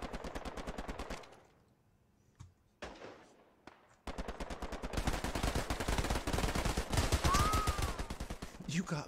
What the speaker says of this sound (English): They be shooting at us